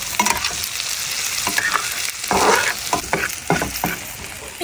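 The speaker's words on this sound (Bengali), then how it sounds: "এবার রসুন দিয়ে দিচ্ছি, সুন্দর মতন দিয়ে দেবো।" Garlic sizzles loudly in a hot pan with oil, the steady frying hiss broken by repeated scraping strokes of a spatula stirring it, with no voices.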